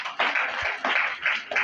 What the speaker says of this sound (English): Please let us give them a round of applause.